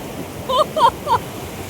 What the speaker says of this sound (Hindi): इतनी तेज लहरें आ रही हैं।